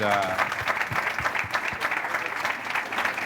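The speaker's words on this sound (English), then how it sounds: "So a big round of applause for Magali, Indre, and Camille, please." A conference audience gives a round of applause, with crowded clapping and a few cheers coming in steady waves, while a voice is heard at the start.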